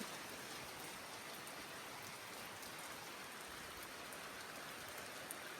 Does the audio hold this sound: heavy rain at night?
yes